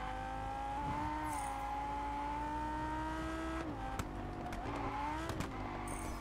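Engine drone of a car being driven in the racing game Test Drive Unlimited Solar Crown, a steady continuous tone rising slowly in pitch with brief shifts near the end, fairly loud and alone.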